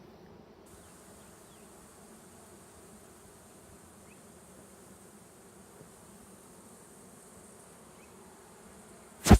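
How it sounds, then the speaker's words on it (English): Bees buzz in a hive being moved from a possum box, a faint continuous drone with low hum beneath, ending in a sharp brief knock. "So what you've done now is move the bees into the centre."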